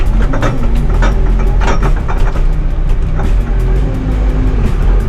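A Bobcat V519 Versahandler telehandler drives and makes a two-point turn in snow, its diesel engine a loud, steady low rumble throughout, with faint rhythmic clanking over the top.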